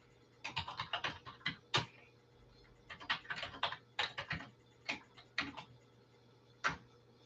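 Typing on a computer keyboard in a quiet room, quick bursts of close key clicks with short pauses between phrases, no talking.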